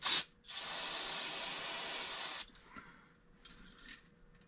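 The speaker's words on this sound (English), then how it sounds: "Then I'll spray it down with brake part cleaner to make sure it's not leaking." Brake parts cleaner is sprayed onto the differential of a 1999 Subaru Legacy Outback: a short spurt, then a loud, steady aerosol hiss lasting about two seconds, followed by faint handling noises.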